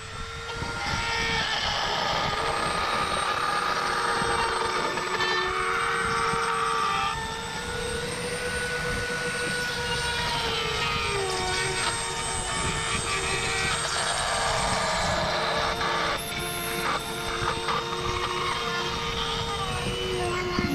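A Dremel rotary tool cuts a 4-inch hole through a boat's hull, giving a loud, steady high-pitched whine that runs continuously for about twenty seconds with slight shifts in pitch, and no talking.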